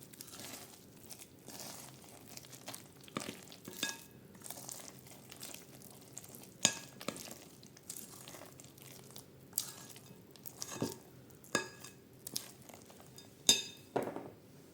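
Rye sourdough bread dough being stirred by hand, with coriander and about one and a half spoons of salt added, gives soft irregular crinkling and sticky squelches plus occasional light clinks against the bowl, close and quiet, with no talk.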